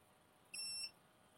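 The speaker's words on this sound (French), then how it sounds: "On a un petit bip quand on est au centre." Arrma radio transmitter, used with a Bigrock 223S RC truck, gives a single short electronic beep of about a third of a second as the steering trim reaches center, clear against a faint quiet background.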